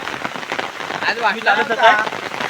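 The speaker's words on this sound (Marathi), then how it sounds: "हा बघा पाऊस एकदम ओके मध्ये पडतोय" Heavy monsoon rain falls at a paddy transplanting field in the Konkan countryside, a close, constant patter and rush of drops with people talking over it in the middle.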